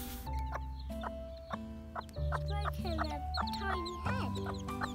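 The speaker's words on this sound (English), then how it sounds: "The mummy hen lets me stroke the chicks." A Serama hen clucks softly and steadily while her chicks peep in high, rapid chirps close by, over a constant low background hum.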